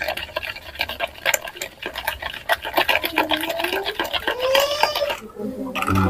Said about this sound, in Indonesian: lalu diaduk-aduk terlebih dahulu ya,